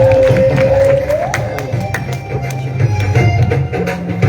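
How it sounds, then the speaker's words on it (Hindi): A crowd claps and cheers at a political rally as a speaker is welcomed to the stage, a loud, dense roar of applause running throughout with a tonal hum and music-like tones underneath. "एक दफा जबरदस्त तालियां बजाएं"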